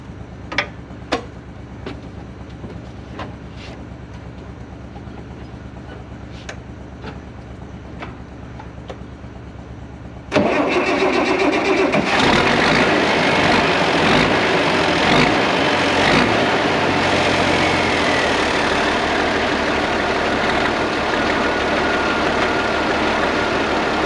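Quiet clicking and faint ticking for ten seconds, then a tractor engine bursts into life and settles into a loud, steady rumbling idle that continues to the end.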